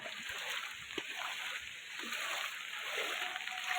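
Floodwater in Jaipur Natun Bazar, Lakhipur, Cachar district, Assam, sloshing and splashing steadily around a house, a continuous close wash of water with brief louder splashes throughout.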